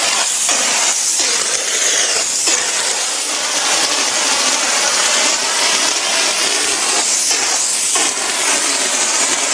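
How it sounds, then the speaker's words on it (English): A StreetPrint Rapid Sprayer II sprays a masked-off area in a loud, steady broadband hiss lasting throughout, with a few brief dips where the spray pauses. "just a matter of spraying from here on in"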